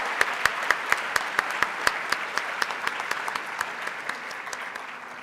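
An audience in a conference hall breaks into steady applause after a session, with one nearby clapper's crisp regular beats standing out over the crowd before it gradually fades.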